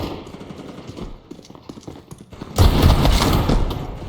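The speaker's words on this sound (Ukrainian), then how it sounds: "Там там із вікна хтось стріляє" Scattered gunshots crackle in the background, then a dense, loud burst of rapid automatic fire erupts and keeps rattling, in the video game Counter-Strike, with a sniper shooting from a window.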